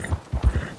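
Hooves of a horse in a video game clip-clop on the ground, a few soft, close thuds in an uneven rhythm, with nothing else sounding.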